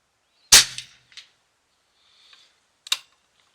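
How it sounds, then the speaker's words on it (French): Subsonic .308 Winchester rifle shots fired at a target, heard as two sharp, loud reports about two and a half seconds apart with faint mechanical clicks between them, no voices. "on est parti pour 5 cartouches sur la première cible en haut à gauche"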